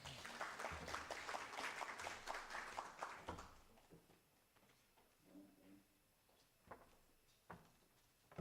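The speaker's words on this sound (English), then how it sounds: "Let's give her a round of applause." A crowd at a research and innovation week event gives a round of applause that fades after a few seconds, leaving scattered faint knocks and handling noises in a quiet room.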